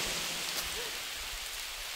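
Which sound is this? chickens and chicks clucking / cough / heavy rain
heavy rain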